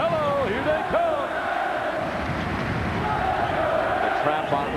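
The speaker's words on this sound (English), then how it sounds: "And here comes the crowd again." A packed college basketball arena crowd roars during a 1997 Wake Forest at Maryland game, a loud sustained surge of cheering and yelling with whistle-like cries rising over it.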